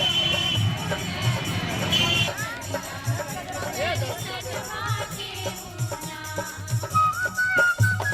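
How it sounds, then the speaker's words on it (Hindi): A busy crowd of shoppers buying pumpkins at a vegetable market in Bihar, a steady babble of many voices with occasional shouts and a low thumping beat running underneath. "सब्जी बाजार में कद्दू की खरीदारी के लिए लोगों की भीड़ लगी हुई है।"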